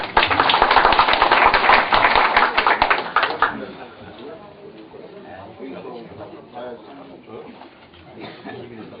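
Audience applause at a union assembly meeting, a dense burst of clapping that fades after a few seconds into quieter room noise with scattered voices.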